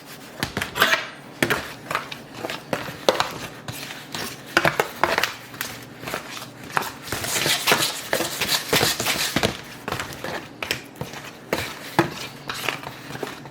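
Flour seasoned with onion powder is mixed in a bowl or pan, giving busy scraping and tapping with clinks of utensil against dish, close and steady throughout, with no talk.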